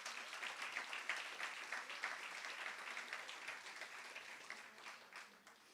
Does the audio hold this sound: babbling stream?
no